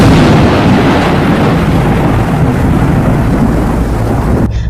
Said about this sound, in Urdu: اسی پل بادل ایک بار پھر سے گرجے۔